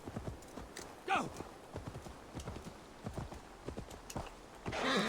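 Rhythmic hoofbeats clip-clop steadily at moderate volume in Assassin's Creed Valhalla, with a brief horse snort or whinny, a few soft bursts of noise, and faint talk in the background.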